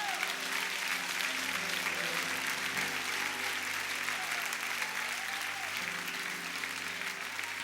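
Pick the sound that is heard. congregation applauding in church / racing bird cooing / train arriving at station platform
congregation applauding in church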